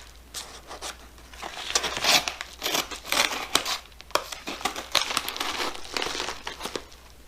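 A mail package is cut open and handled, producing close, crisp crinkling and tearing of plastic packaging in irregular bursts, with no speech.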